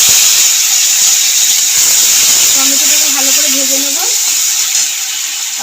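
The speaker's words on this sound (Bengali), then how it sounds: "আগে থেকে টমেটো কেটে রেখেছিলাম টমেটো দিয়ে দেবো" Chopped tomatoes hit hot oil already seasoned with bay leaves and tempering spices, giving a loud, steady sizzle and hiss throughout, with a bubbling crackle rising midway as the tomatoes fry.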